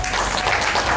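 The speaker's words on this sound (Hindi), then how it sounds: "जोर से ताली बजाओ।" Wedding guests clap together in a brief burst of applause, dense and continuous for about a second, with no talk.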